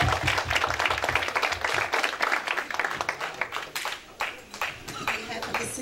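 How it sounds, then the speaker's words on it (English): Audience applause at a city civil-rights honoring ceremony in Plainfield, a run of crisp hand claps from a modest group, fairly close and uneven, thinning out toward the end, with some talking mixed in. "Give a round of applause, please."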